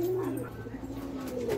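Pigeons coo softly outdoors near dusk, a short low throaty burbling call repeated within under two seconds against faint background noise.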